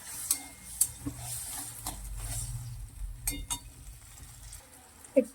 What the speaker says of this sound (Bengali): পেঁয়াজ আর ক্যাপসিকামটা একটু নাড়াচাড়া করে নিয়ে দিয়ে দেবো এই সসটা।